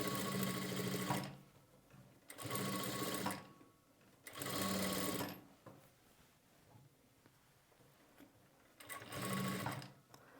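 A sewing machine stitches fabric piping in four separate bursts of rapid, steady whirring, with quiet pauses between the runs, heard close and alone.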